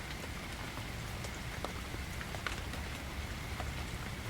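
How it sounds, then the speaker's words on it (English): Rain in a forest patters softly and continuously, with scattered drips and plops standing out now and then against a steady, fairly faint wash. "The rain begins to taper, the steady din becoming more intermittent, the plinks and plops becoming fewer and farther between."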